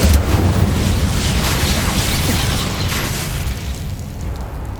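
An Incendio fire spell cast in Hogwarts Legacy: a loud, sustained whooshing blast of flame with heavy rumbling low end, fading gradually over several seconds.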